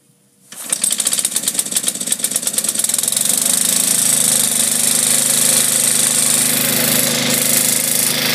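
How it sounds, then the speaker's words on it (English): An old, low-hour generator engine cranks and catches, then settles into a loud, steady rapid knocking run close by, with no voices. "I never started an engine this old."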